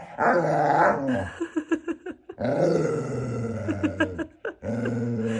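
A very vocal dog wanting to play makes a run of growls, grumbling groans and short barks in bursts and pauses, close and fairly loud, with no one talking.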